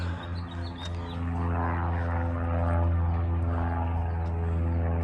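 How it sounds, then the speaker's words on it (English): Propeller airplane taking off near McClellan, a steady low engine drone with strong harmonic hum, rising slightly in loudness and holding, heard from a distance outdoors with faint bird chirps. "I hear another plane taking off."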